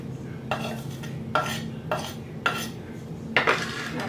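A spoon mixes light cream into a mini pie filling of chicken and cottage cheese in a bowl, making four clear scraping clinks at an even pace with quiet pauses between them.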